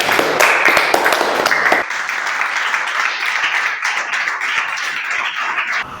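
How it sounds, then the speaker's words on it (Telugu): Teammates at a children's word game show clap together in a burst of loud, quick applause that drops after a couple of seconds into lighter, scattered claps. "మీ సహచరులు నిన్ను వారి చప్పట్లతో అభినందిస్తున్నారు."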